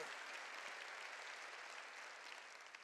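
Church congregation clapping together after a preacher's call, a dense, even wash of applause that is quiet and distant and runs without a break.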